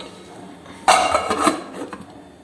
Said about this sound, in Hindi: अब इसे हमने पानी में डाल दिया है और इसे हम अब ढक्कन दे देंगे।